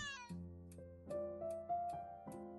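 A cat meowing in the video game Milo and the Magpies: a short series of tonal meows over a soft musical game background, clear and fairly close.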